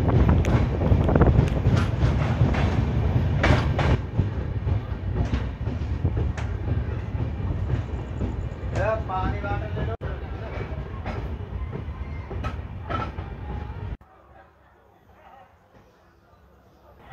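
A passenger train near Sakshigopal station roars along with a steady loud rumble and rhythmic clatter of rail cars, wind buffeting the microphone, before the noise drops abruptly to a quiet background near the end.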